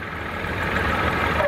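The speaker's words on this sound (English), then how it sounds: "But here's a three-cylinder one, and got a lovely engine note to it as well." A three-cylinder tractor runs steadily at a traction engine rally, its engine note a continuous low rumbling idle, fairly close and with no voices.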